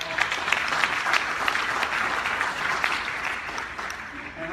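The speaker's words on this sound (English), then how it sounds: "so if you can give them a round of applause." Guests at a dinner event applaud board members in a steady round of clapping that continues for several seconds and then eases off slightly near the end.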